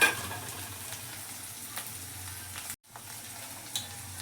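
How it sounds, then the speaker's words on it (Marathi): Onion and a little garlic frying in a pan give a faint, steady sizzle with occasional stirring scrapes, cut off by a brief silent gap partway through. "तर आपण या सगळा ढवळून घ्यायचा. कांदो लालसर होऊ द्यायचो."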